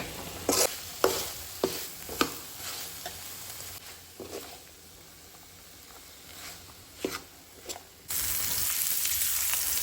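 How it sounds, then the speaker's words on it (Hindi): Fish masala roasts on high flame in a pan, crackling and sizzling close up, with repeated sharp scraping stirs and then a louder, steady sizzle near the end. "अभी इसको जो है ना हाई फ्लेम पे 2 मिनट के लिए करेंगे रोस्ट।"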